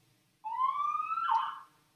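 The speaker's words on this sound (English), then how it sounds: "I don't know if you guys could hear that, but there are some sirens outside." A city siren sounds outside in Montreal, one short rising wail that swells and then cuts off, fairly clear against a quiet room.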